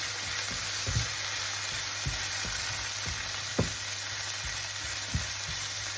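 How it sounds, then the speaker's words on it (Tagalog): Tomato sautéing in a hot frying pan while an egg omelette with sardines is cooked, a steady broadband sizzle with scattered soft stirring clacks, close and alone. "Kasunod nyo yung tomato. Gisahin nyo lang yan guys."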